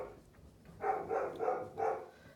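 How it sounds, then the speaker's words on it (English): A dog barks four times in a quick, evenly spaced series at moderate distance, fairly faint behind a quiet indoor room tone, with no one talking. "Pardon my barking dog."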